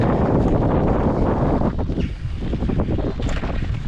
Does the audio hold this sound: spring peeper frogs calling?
no